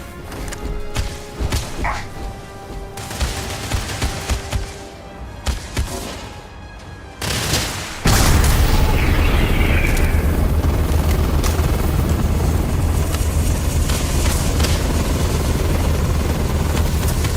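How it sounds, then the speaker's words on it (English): Grenade launcher blasts in Starfield: a run of sharp thumping detonations and clatter, then a sustained heavy roaring rumble that stays loud and close to the end. "grenade launcher's no fun"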